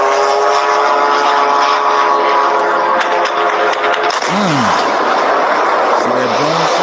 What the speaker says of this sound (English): That's like a damn plane.